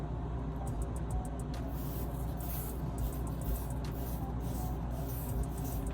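Wig adhesive spray is released in a rapid series of short, crisp hissing puffs, then a few scattered bursts, close up over a steady low background hum.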